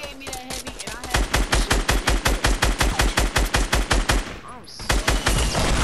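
Rapid automatic gunfire crackles in a Fortnite match, a long evenly spaced burst of loud close shots, a short pause, then firing resumes, with faint voices underneath.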